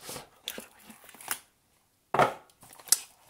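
Packaging is cut open during an unboxing of a Kingzone S3 phone, with short scraping and crinkly cutting bursts, a brief pause, then a sharp rustle and snip, close and fairly quiet, without talk.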